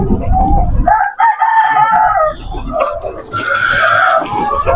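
Farm chickens feeding on spinach cluck and crow loudly and close by, a rooster's call rising among busy hen chatter, with a faint voice briefly underneath.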